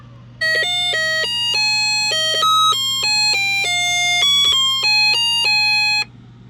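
A Snap Circuits burglar alarm sounds a loud electronic melody of rapid stepped beeping tones, continuous for about five and a half seconds over a steady low hum, with no talking.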